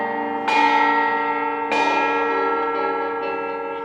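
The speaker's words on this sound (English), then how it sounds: "The bell invites me." A deep church-style bell tolls three times at steady intervals during a stage performance of Macbeth, each strike ringing out loud and clear before decaying into a long, shimmering hum.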